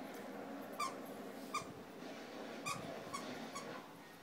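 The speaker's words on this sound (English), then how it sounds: "Are you squeaking it?" A French bulldog squeaks a squeaky toy indoors, five or six short, sharp squeaks spaced about a second apart over a low, quiet room hum.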